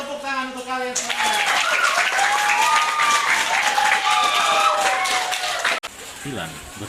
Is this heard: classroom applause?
yes